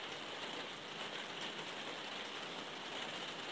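Rain taps on a window as a steady, dense patter of fine drops that continues evenly throughout, with no speech.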